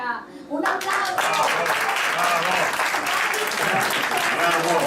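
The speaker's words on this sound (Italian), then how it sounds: "Un applauso!" Studio audience applause breaks out at an Italian television tribute show, a dense, loud, steady wash of clapping hands that swells in after a brief quieter moment and holds strong.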